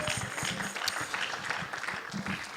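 A church congregation on a weekday evening service applauds, a steady patter of many hands clapping fairly close, without clear talk over it.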